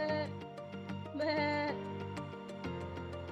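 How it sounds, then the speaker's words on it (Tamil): A goat bleats in a children's farm-animal lesson: a few wavering, nasal calls set over a tonal musical backing. "ஆடு எப்படி கத்தும்?"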